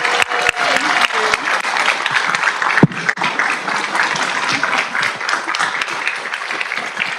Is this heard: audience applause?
yes